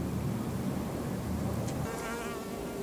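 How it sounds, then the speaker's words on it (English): Honeybees buzzing around a sage plant, a close, continuous insect hum with wingbeat tones that shift in pitch as bees move about, with no voices. "The type flying around the sage plant are mostly honeybees"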